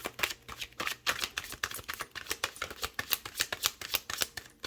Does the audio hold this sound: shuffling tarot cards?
yes